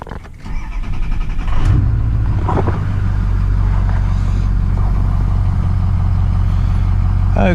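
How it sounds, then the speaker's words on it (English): A Ford 6.0 Powerstroke diesel pickup with a blown head gasket cranks and fires up, starter churning briefly before the engine catches and settles into a loud, steady low diesel idle that continues to the end. "let's start the truck up"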